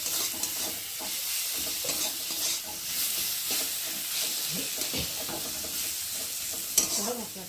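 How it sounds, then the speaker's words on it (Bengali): Spices frying with onion and chopped tomato in a pan, a continuous loud sizzle broken by repeated stirring scrapes and a utensil clink near the end. "পেঁয়াজটার সাথে ভালো করে মশলাটা কষিয়ে নেব, যতক্ষণ না মশলার একটা গন্ধ থাকছে"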